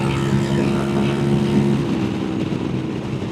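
Loud, steady scooter engine drone heard up close while riding over the bridge across Laguna Madre toward South Padre Island, with strong low hum and wind rush throughout.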